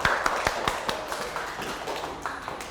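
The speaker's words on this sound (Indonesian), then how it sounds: "Tepuk tangan buat Ananda Zaidan." A few children in a primary school classroom clap briefly for a classmate, scattered sharp claps at the start thinning into softer patters over a couple of seconds.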